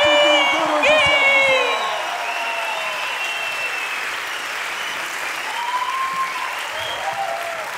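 A live comedy roast audience bursts into sustained applause, with dense clapping and scattered whoops and cheers throughout, voices rising over the crowd near the start before it settles into a steady wash of clapping.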